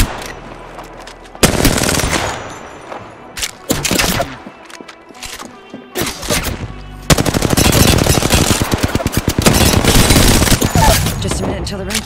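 Gunfire in the battle royale shooter Apex Legends, loud rapid automatic bursts broken by short pauses, then a long sustained stream of shots near the listener.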